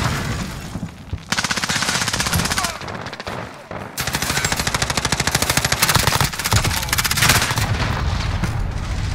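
Rapid automatic gunfire from an MP7 submachine gun in Call of Duty: Modern Warfare (2019) Hardpoint on PC, loud dense bursts running almost throughout with brief pauses, a player voice occasionally under the shots.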